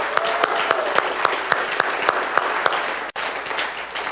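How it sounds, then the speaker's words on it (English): Audience applause at a Toastmasters-style speaking event, a loud continuous patter of many hands clapping in a room, with a brief dropout near the end. "Let's give her a round of applause."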